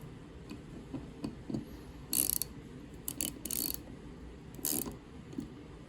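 Small screws being tightened while a Holosun 407K/507K optic is mounted on a Springfield Armory Hellcat pistol, with quiet ratcheting clicks and brief metallic bursts at irregular intervals, close and faint.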